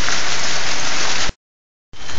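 Hail from a short January storm in Warren, Massachusetts drums on a metal roof in a loud, dense, steady clatter that cuts out for a moment and then resumes.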